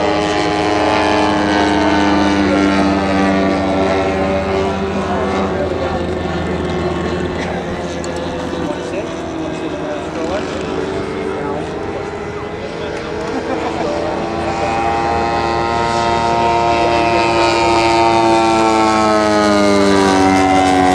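A big green Waco biplane flies overhead at an airshow, its radial engine droning loudly with shifting harmonic tones as it passes, while a commentator talks over it.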